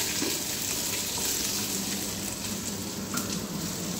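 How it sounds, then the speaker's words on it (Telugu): Lentils and seeds crackling as they fry in oil for a coconut chutney, a steady dense sizzle with scattered pops running throughout at close range, no voices. "చూడండి, చిటాపటా అంటున్నాయి కదా."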